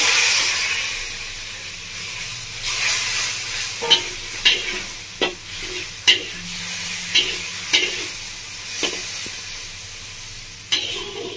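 Onion and garlic fry in mustard oil, giving a steady close sizzle with a hiss beneath about ten sharp scraping stirs at irregular intervals.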